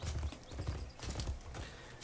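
In the LOTRO video game, horses move with a dense, rumbling patter of hooves that is loud and continuous. A faint whinny may come through, and no one speaks.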